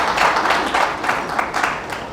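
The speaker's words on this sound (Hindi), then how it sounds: "अपने लिए ताली बजाइए और मैं भी बजाता हूं आपके लिए ताली।" An audience claps together at a motivational talk during a Rotary event, a dense, steady patter of hands that holds at a fairly even loudness throughout.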